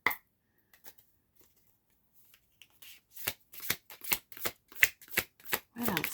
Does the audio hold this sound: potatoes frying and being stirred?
no